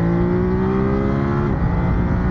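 A 2021 Ducati Monster 950 roadster engine pulls hard under acceleration, a loud close rising drone that drops briefly at a gear shift before climbing again, with no talking.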